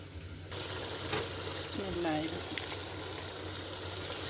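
Whole spices drop into hot butter in a handi pot and begin sizzling, a sudden hiss that settles into a steady close crackle with a few light clinks and a brief murmur of voice.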